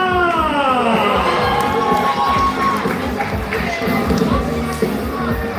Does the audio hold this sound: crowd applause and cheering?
yes